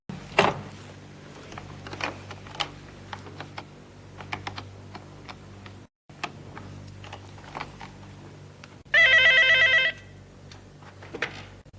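A telephone rings once in a single loud, sustained electronic burst near the end, preceded by scattered clicks and taps resembling keys being pressed in a quiet room; nobody speaks.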